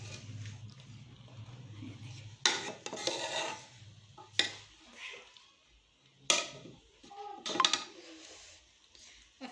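Cooked matar pulao, a pea rice, is scooped and scraped from a pot onto a plate. Several sharp metal spoon scrapes and clinks stand out over softer rustling, with a few pauses between them.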